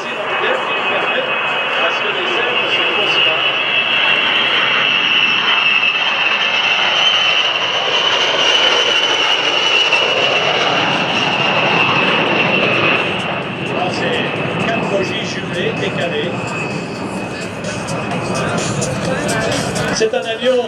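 A loud, high-pitched jet whine of a model aircraft sweeps past in a diving pass, roaring steadily and then fading, with crowd chatter in the background.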